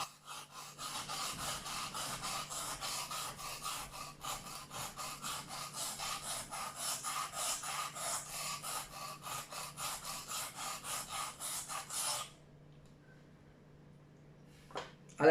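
A kitchen knife is pushed along the 120 grit side of a cheap whetstone, giving steady rhythmic scraping strokes for about twelve seconds before stopping, followed by a couple of faint clicks.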